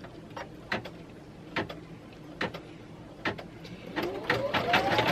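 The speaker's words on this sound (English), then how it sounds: "So I will not let you sit here and watch this machine sew for 3 minutes." An embroidery machine stitching a name onto a fabric luggage tag in a hoop, giving a quiet, steady run of rhythmic clicking needle strikes, with a faint rising whir toward the end and no talk.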